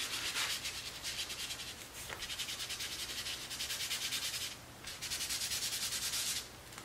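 Cold wax gets rubbed onto an oil painting in quick, repeated scrubbing strokes, close and fairly soft. The rubbing comes in bursts with brief pauses between them, and nobody talks.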